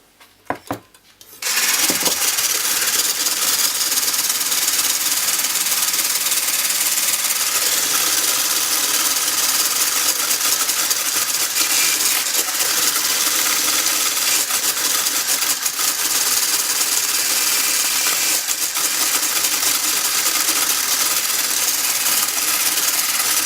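Steady, continuous whisking of an Austrian nut roll mixture, a dense broadband scraping and whirring that runs without pause for the whole stretch after a brief quiet start, close and fairly loud.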